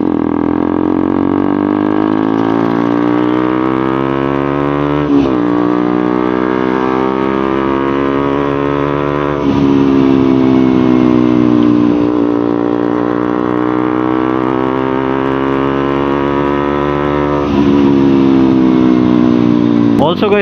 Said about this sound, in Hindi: एग्जॉस्ट नोट काफी सटल है, थोड़ा सा लाउड आपको देखने को मिलेगा